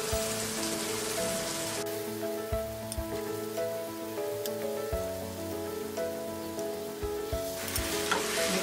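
Boiled, grated potato fries in a pan with softened onions and tomatoes, giving a steady close sizzle and crackle with occasional stirring scrapes and knocks. No voices are heard.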